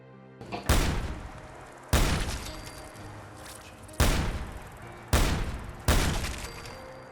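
Tactical Advanced MK14 ABR rifle fired in Fallout 4, five loud, sharp gunshots at irregular intervals, each with a booming echoing tail that decays before the next shot.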